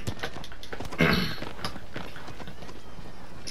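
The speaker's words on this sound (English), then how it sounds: "The horse is super close." A horse in the video game Shadow of the Colossus clip-clops with quick rhythmic hoof beats, near and moderately loud, with a brief louder burst partway through.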